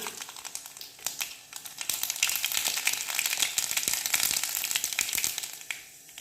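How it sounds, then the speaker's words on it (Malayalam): Mustard seeds crackle and pop steadily in hot oil, a dense sizzling spatter with sharp snaps throughout, close by and fairly loud. "കടുക് പൊട്ടി കഴിഞ്ഞതിന് ശേഷം"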